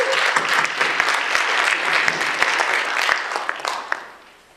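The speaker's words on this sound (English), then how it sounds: "Give yourselves a big round of applause." Grade 12 and OAC graduates of 1991 clap for themselves at a high school commencement ceremony. The applause is dense and hall-filling with sharp individual claps, then it tapers off at the end.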